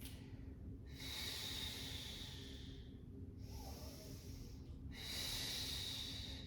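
Slow, audible breaths drawn in and blown out during a beginner Pilates mat workout, three long airy exhales in a steady rhythm, close and fairly quiet with no talking.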